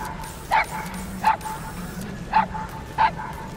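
A dog in the video game Metal Gear Solid 5: The Phantom Pain gives four short yipping barks in an uneven rhythm over a steady background hum, fairly close and moderately loud.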